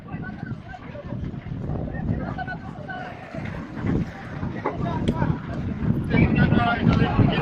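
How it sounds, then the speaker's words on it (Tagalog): Strong wind gusts and rumbles steadily at a house fire in Barangay Basak San Nicolas, Cebu City, growing louder toward the end while people shout and talk over it. "Delikado na kang hangin"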